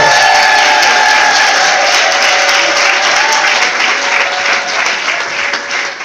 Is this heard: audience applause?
yes